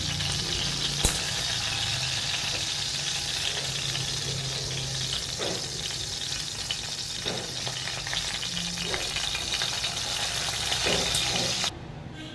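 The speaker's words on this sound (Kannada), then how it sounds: "ಸ್ವಲ್ಪ ಎಣ್ಣೆಲಿ ಕರ್ಕೊಂಡಿದ್ದೀನಿ ಕರ್ಕೊಂಬಿಡೋಣ ನೋಡಿ" Eggplant pieces fry in hot oil with a steady, close sizzle, broken by a few faint clinks and stirring sounds from the pan.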